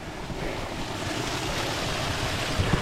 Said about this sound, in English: Oh, I do love this little waterfall.